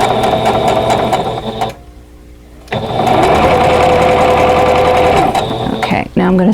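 A sewing machine stitches quilt block rows together for an arrowhead puzzle block, its steady rapid mechanical whir running loud and close, pausing briefly mid-clip before resuming.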